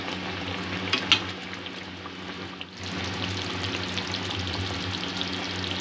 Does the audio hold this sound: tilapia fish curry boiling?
yes